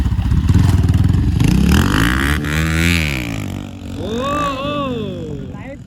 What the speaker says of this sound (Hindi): ये देखिए गाइस एवेंजर में व्हीली